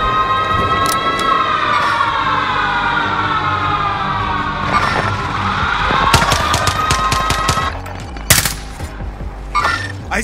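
Rapid video game gunfire rattles in sharp bursts over a wailing, rising engine or siren tone, with loud cracking shots clustering toward the end.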